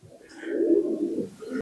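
Fancy pigeons coo at a pigeon farm in Natore, one soft, throaty, rolling coo swelling and fading close by, with a faint chirp at the start and no talking.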